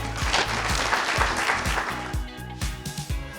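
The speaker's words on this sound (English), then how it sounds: "Let us applaud everyone who contributed to making this bold initiative a reality." Applause at an engineering institution's annual general meeting, a dense wash of clapping from a large crowd that is loud and sustained, then thins toward the end over a low rhythmic thump.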